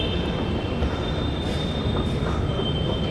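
A metro train pulls into an underground station, loud continuous rumble of railcars with a high wheel squeal running throughout, heard up close.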